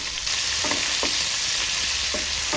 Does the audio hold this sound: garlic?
yes